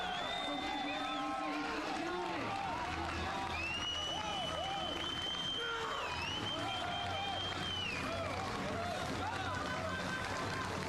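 Large crowd cheering, whistling and applauding at a strongman Grand Prix event in Prague, 2001, a continuous dense roar with overlapping shouts, a commentator's voice running over it throughout.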